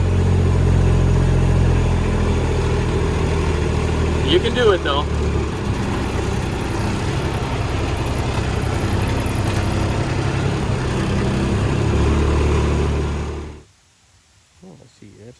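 A tractor engine rumbles steadily up close as it squeezes along a narrow path hemmed in by prickly bushes, a continuous loud drone that cuts off near the end; a person speaks briefly over it.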